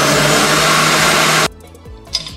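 A Royal Prestige blender mixing batter for pineapple upside-down cake whirs loudly and steadily, then cuts off abruptly halfway, leaving quiet kitchen background with a faint clink.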